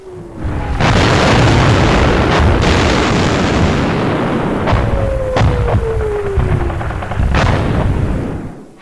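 Incoming artillery shells bursting around soldiers on the World War II front, a relentless, loud run of booms and heavy explosions with sharp cracking reports, a constant roar filling the gaps between them.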